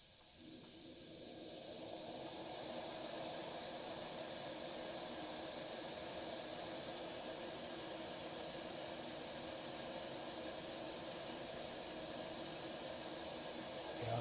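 A British military No12 stove cooker burner turned down to a low simmer gives a steady, close roaring hiss that builds over the first couple of seconds, then holds constant and unbroken.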